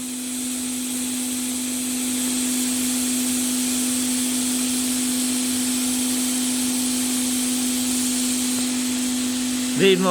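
Household vacuum cleaner running steadily at close range, drawing surplus power in a home self-consumption test; a continuous hum with a high whine that holds level throughout, with a brief sharp sound near the end.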